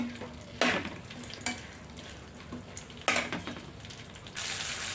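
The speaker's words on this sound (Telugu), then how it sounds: "ఇందులో కొద్దిగా ఆయిల్ అంటే ఒక టేబుల్ స్పూన్ ఆయిల్ వేసి మిరపకాయలు కొంచెం వేపుదాం" Red chillies fry in a tablespoon of oil in a pan, a steady close sizzle broken by several sharp scraping stirs of a spoon against the metal, with a brighter hiss swelling near the end.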